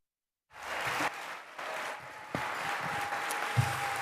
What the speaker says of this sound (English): he was met with a wild amount of applause as the event began